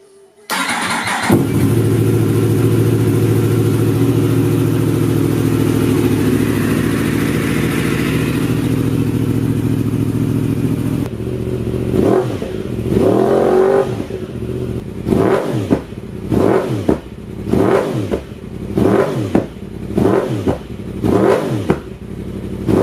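A Yamaha R1M motorcycle with an Akrapovic exhaust starts and idles with a steady rumble, then gives a series of sharp, loud throttle revs that rise and fall in quick succession.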